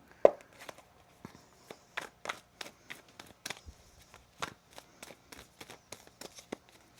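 Tarot cards being shuffled by hand, a quiet close series of soft riffling snaps and taps in an irregular rhythm, alone with no talk.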